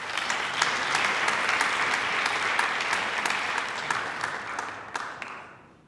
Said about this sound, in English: So just a round of applause for Karel.